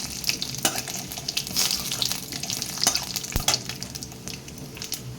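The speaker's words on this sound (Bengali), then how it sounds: "ফোড়নে প্রথমে আমি একটু জিরে দিয়ে দিচ্ছি পরিমাণ মতো জিরে আর দিয়ে দিচ্ছি শুকনো লঙ্কা তেজপাতা" Cumin seeds, dried red chilli and bay leaf crackle in hot oil for Bengali lentil dal tempering, a dense close sizzle with rapid pops and spits throughout and one sharp knock, with no talking.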